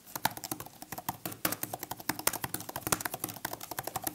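Rapid, steady key clicks from a scissor-switch Magic Keyboard on an iPad Pro, crisp and close, with a few slightly heavier strokes mixed into a fast typing rhythm; no voices.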